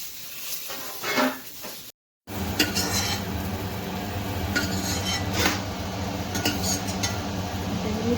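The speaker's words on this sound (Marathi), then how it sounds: "हे वांगे असे परतून घ्यायचे." Stuffed brinjals being sautéed in a pan, with a spoon clinking and scraping against the metal over a steady sizzle after a brief gap, close and fairly loud with no talking.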